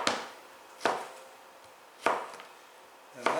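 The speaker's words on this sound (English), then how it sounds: "I did freeze the bacon just to make it easy to cut crosswise into, 1/4 inch" A knife chops through frozen bacon crosswise into quarter-inch slices for lardons, four sharp separate strikes on a board with short quiet gaps between them.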